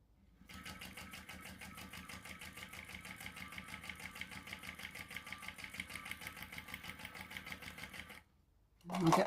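A hand-cranked sewing machine stitches a fabric shoulder bag with a steady, even chugging rhythm for about eight seconds, then stops, leaving a brief louder sound at the end.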